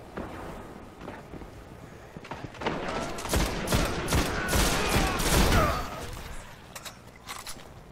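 MIDA firearm shots in the video game Destiny's Crucible multiplayer, a build of sharp repeated gunfire bursts swelling to a loud dense volley around the middle, then scattered fainter shots as it tapers off.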